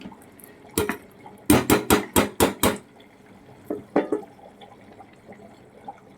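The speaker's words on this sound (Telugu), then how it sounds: "ఇప్పుడు పైన లైట్గా కొంచెం నెయ్యి వేసుకోండి నెయ్యి ఆప్షనల్ అండి ఒక్కసారి కలిపేయండి మెత్తగా కలిపేసుకోవాలి" Ghee being mixed into ragi sankati, a Rayalaseema finger-millet dish served with kodi kura, with a quick run of six loud, evenly spaced thick slaps and knocks of the mixing, plus a few scattered softer taps.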